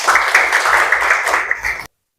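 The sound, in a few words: classroom applause for Gilang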